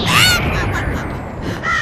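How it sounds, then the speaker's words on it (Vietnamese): A cartoon crow in an animated Vietnamese fairy-tale film caws loudly and harshly, a few rasping calls close up at the start and again at the end. "Đồ chim dữ, cút đi."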